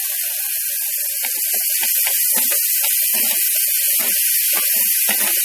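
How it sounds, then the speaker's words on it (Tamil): Tomatoes frying in oil with garam masala for a soya chunks gravy: a steady, loud sizzling hiss with scattered crackles and pops throughout. "நல்லா ஸ்மாஷ் ஆகிற வரைக்கும் எண்ணெயில் வதக்கிக்கலாம்"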